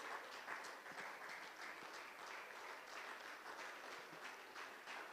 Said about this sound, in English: I'll give him a big round of applause,